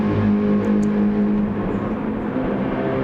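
GT3 race cars in Gran Turismo 7 at Suzuka roar down the straight at full throttle, a loud, steady engine drone with a sustained tone, close and without voices.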